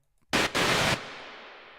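A harsh, noisy synth screech from an industrial techno live set bursts in twice, briefly broken, then cuts off into a fading reverb tail.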